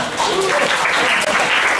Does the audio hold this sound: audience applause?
yes